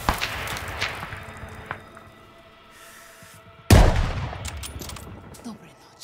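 A single sharp, loud gunshot from the Stalingrad sniper mission game rings out partway through and trails into a decaying echo, following a stretch of quieter scattered ambient sounds.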